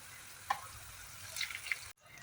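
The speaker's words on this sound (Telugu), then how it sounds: "కరివేపాకు అన్నిటినీ మంచిగా వేయించుకోవాలి." Curry leaves and onions fry in oil for a spiny gourd (bodakakarakaya) fry, giving a quiet, steady sizzle broken by a few sharp pops and crackles, close and with no talking.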